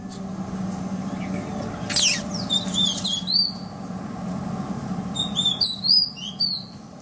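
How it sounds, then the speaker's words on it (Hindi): Sparrow chicks nest inside a village switchboard and chirp in thin, high bursts, one cluster early and a busier run toward the end, over a steady low hum. "कुरुवी वो चिड़िया है जिसके बच्चे स्विच बोर्ड में बने घोंसलों में मौजूद हैं"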